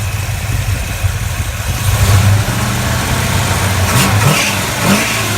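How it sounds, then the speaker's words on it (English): A 1972 Dodge Charger with a 5.9 Magnum engine and Hughes valve train revs up loud and close, throttle blips rising and settling over a steady rumbling idle, with no voices. "let's give it some revs here."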